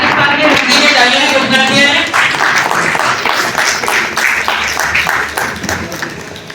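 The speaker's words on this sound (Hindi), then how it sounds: "सभी साथियों से निवेदन है कि आप ताली बजाकर" At a National Voters' Day award ceremony in India, a crowd claps steadily in a brisk, regular rhythm that continues beneath someone speaking over it.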